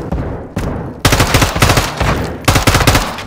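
Rapid automatic gunfire in Call of Duty: Modern Warfare II, loud and close, coming in several bursts of fast rhythmic shots with brief gaps between them.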